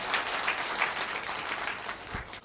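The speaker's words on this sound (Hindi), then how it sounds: "एक जोरदार ताली पहले सबसे पहले आप सभी के लिए" A live audience at a motivational talk bursts into loud, sustained clapping, a dense wash of applause that holds steady before cutting off abruptly at the end.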